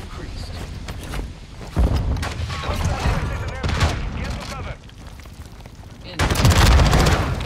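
Video game gunfire in Warzone, scattered bursts and shots at varying distance with a couple of louder blasts, while a voice talks intermittently.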